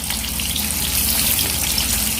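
Hot ghee tempering poured onto boiled, drained rice sizzles loudly and steadily up close, a continuous crackling hiss with no talk.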